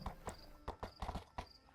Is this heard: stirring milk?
no